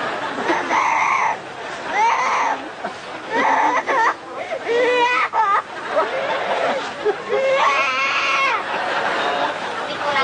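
A parrot imitates desperate, wailing crying in a run of repeated sobbing, bleating-like cries, close and loud, with human chatter faintly mixed in.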